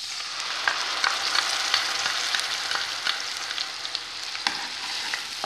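Ground coconut spice paste frying in hot oil for a curry, a steady crackling sizzle with scattered pops and light stirring scrapes, close and continuous with no talking.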